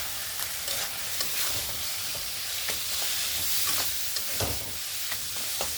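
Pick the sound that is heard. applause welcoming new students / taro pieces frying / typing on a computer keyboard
taro pieces frying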